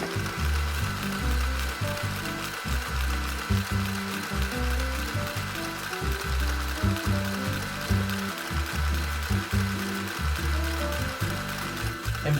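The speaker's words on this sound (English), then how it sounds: "We'll have both printers push out as many pages as they can in 1 minute." HP LaserJet Pro and Brother laser printers running side by side, a continuous rhythmic mechanical churn of rollers and paper feed repeating steadily as pages are pushed out.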